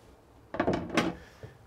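A drawer in the galley of a Dufour 310 Grand Large sailboat slides open and shuts, giving a short rumbling slide and a soft knock, close and alone.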